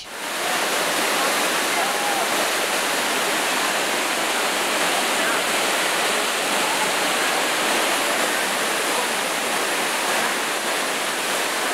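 A waterfall at Siem Reap, Cambodia, roars in a steady, dense wash of falling water that fills the whole stretch at constant loudness, close and unbroken, with no talk standing out.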